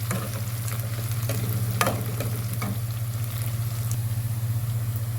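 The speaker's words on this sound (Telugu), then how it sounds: "ఎండుమిర్చి కూడా వేసుకుందామండి. బాగా దూర వేగాలండి." Dried red chillies fry in oil in a pan for a moringa leaves dish, giving a steady, close sizzle with occasional stirring clicks over a low constant hum from the stove.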